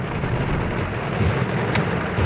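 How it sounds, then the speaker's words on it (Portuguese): Heavy rain pours down steadily in Divinópolis, Brazil, a dense continuous roar with low rumbling underneath that suggests thunder, loud and close throughout with no voices. "Chuva braba em minutos."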